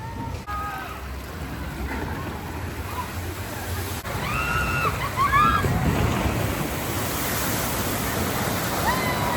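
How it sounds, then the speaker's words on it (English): Water rushes along the smaller flume ride at Canobie Lake Park in Salem, New Hampshire, a continuous broadband wash of flowing and splashing water with faint distant voices and squeals scattered over it. "Oh, the classic Canobie Lake Park flume ride"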